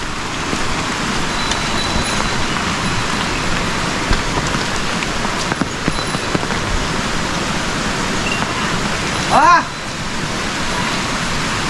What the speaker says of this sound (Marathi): पाण्याचा आवाज बघा